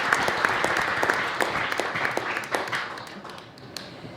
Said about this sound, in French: Un applaudissement pour les signataires.